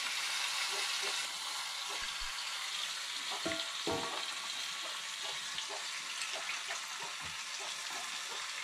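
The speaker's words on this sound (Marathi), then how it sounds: "तर आता लसूण आणि कढीपत्ता आहे ना ते मस्त गरम झालेलं आहे तेलामध्ये" Garlic and curry leaves temper in hot oil for a village-style fish curry over a wood-fired stove. A steady, close sizzle and crackle runs throughout, with a few small pops and stirring clinks.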